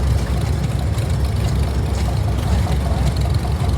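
A 1948 Case LA propane tractor runs in a parade of power, its engine rumbling steadily and fairly loudly with a dense low throb and broad mechanical noise throughout.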